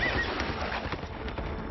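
Horse hooves pound rapidly in a gallop in the film Sleepy Hollow. The beats are close and brisk over a dense background rumble, and the burst is brief.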